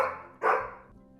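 A dog in a bedtime story about a princess's dog gives two quick, close barks, the second sharper and louder, with no talking over them.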